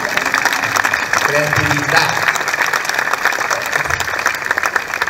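An audience applauding at a literary prize event in Sarzana, with dense, steady clapping that lasts the whole stretch while someone speaks loudly over it.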